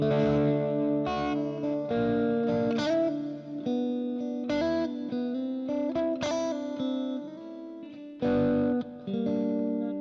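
Fender Stratocaster electric guitar playing a clean, bright, thin-toned melodic passage with chorus-like shimmer, notes ringing and changing steadily without pause.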